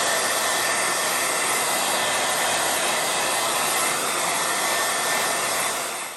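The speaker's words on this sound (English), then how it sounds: "so I got my hairdryer." A hairdryer blows hot air over painted MDF plant labels, a loud, steady whooshing whine running without a break and tapering slightly as it shuts off at the end.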